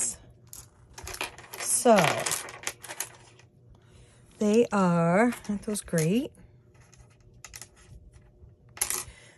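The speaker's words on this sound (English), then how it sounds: "I have these dice." Small plastic gaming dice, including a D20 and a D12, clatter as they are handled and dropped in a few short bursts, with talk in between.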